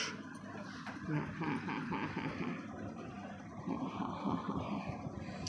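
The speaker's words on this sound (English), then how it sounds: "desi dog hai indian dog desi dog" An Indian desi dog, heard faintly with soft whimpers and yips amid outdoor background noise and distant traffic, quiet and intermittent rather than a clear bark.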